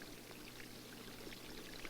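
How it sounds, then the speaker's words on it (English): Water pours and streams continuously at low volume down a model canyon into a model reservoir, a soft steady rush with faint droplet splashes throughout. "The water running down the canyon represents the normal flow of the stream."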